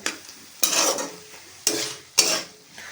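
Spiced food being sautéed in a pan with little oil during home cooking, a utensil scraping and stirring in several distinct, close swishing strokes with short pauses between them and no voices.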